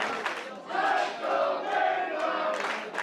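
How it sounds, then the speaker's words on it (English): Wrestling crowd at a Pittsfield street fight chanting for hometown wrestler Lance Madewell, a loud, rhythmic wash of many voices swelling in repeated waves. "Let's go Madewell chant now"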